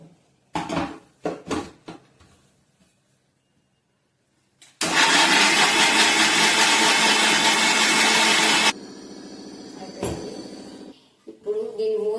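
A mixer grinder whirs loud and steady for about four seconds as it blends juice in a mixie jar, between clinks of the jar and someone speaking.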